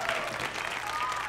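An audience at a comedy roast claps warmly in a brief, full burst of applause with no speech over it.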